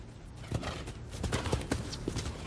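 Horse hooves clip-clop in a walking rhythm during an equestrian therapy session, with a series of distinct, moderately close hoofbeats over a steady background hum.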